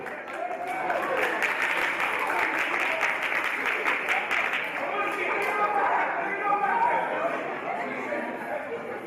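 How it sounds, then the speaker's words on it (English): Audience applause at a Desert Barbell powerlifting meet, steady sustained clapping from a crowd for the lifters, with chatter and a little laughter mixed in throughout. "All right, a round of applause for these girls also."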